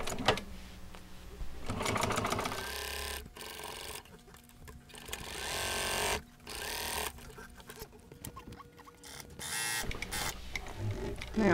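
A sewing machine stitches fabric pieces together for a reupholstered pillowtop ottoman, running in loud mechanical bursts with brief stops and restarts between seams.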